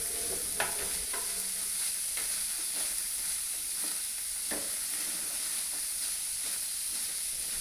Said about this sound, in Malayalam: സവാള ഒരു ബ്രൗൺ നിറമാകുന്നത് വരെ വഴറ്റിയെടുക്കണം.